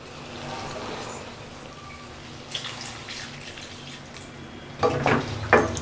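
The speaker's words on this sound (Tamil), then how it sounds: "இதோடவே தேவையான அளவுக்கு தண்ணி சேர்த்துடலாம்." Water splashes and pours into a pan of cauliflower masala in short bursts near the end, after a quiet stretch of faint kitchen background noise.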